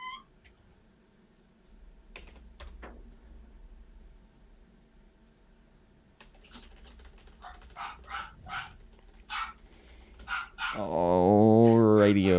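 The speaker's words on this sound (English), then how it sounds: "As the dogs are yapping." Dogs yap in a quick series of short, sharp barks at a moderate distance after a quieter stretch of faint noises, and a voice starts speaking near the end.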